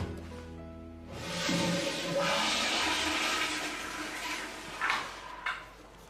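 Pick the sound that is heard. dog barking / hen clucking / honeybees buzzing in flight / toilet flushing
toilet flushing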